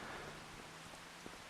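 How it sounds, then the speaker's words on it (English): Steady rain hisses down in the Farming Simulator game, a dense, even wash of falling drops with no breaks, a faint low hum underneath. "let's move past the rain at least right now"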